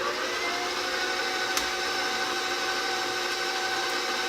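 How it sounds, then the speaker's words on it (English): Electric stand mixer whirring steadily while beating doughnut batter for apple cider doughnuts, a loud constant drone close by with no voices. "we're going to put our eggs in one at a time while the mixer is going"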